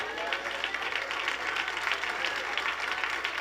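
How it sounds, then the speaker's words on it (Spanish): A church congregation applauds steadily through the whole stretch, a dense, even wash of many hands clapping at close range with a faint voice underneath. "Dígale, Señor, este aplauso es para ti"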